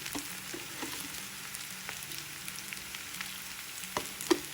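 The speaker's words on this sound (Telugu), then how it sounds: "ఉల్లిపాయ కొద్దిగా వేగాక దీనిలో క్యాలీఫ్లవర్ ముక్కలు వేసుకుందాం." Cauliflower pieces fry with onion in a pan, a soft, steady sizzle with a few faint utensil clinks and taps near the end.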